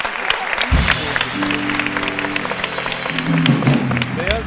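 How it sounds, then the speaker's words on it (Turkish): Studio audience applauding loudly on a Turkish television talk show set, steady dense clapping throughout with a low musical tone running underneath. "Onlara da tabii alkış alalım bütün bunları."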